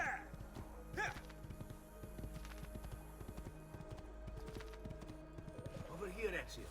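Horse hooves clip-clopping at a steady walking rhythm in the video game Assassin's Creed II, faint and mixed under game ambience with voices talking.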